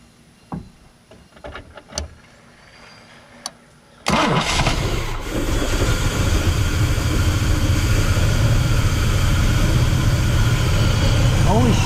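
A Ford OBS pickup truck, just back from a fuel system overhaul, cranks briefly after some quiet clicks and handling noises, then catches and settles into a loud, steady idle.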